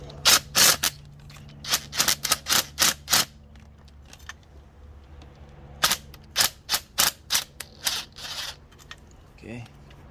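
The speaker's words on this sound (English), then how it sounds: "Now let's continue loosening the rest of the 10 mil." Ratchet loosening 10 mm valve cover bolts on an Infiniti G35/G37-family engine, heard as close, sharp clicking bursts in two rapid runs separated by a pause, with a brief voice near the end.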